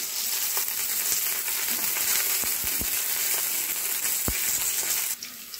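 Green chillies and curry leaves sizzling in hot oil for kanda pohe, a loud, continuous close-up crackle with sharp spits and a few louder pops, easing slightly at the very end.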